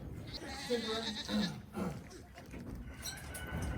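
Goats bleat several times close by, their wavering cries mixing with a person's voice and rustling movement.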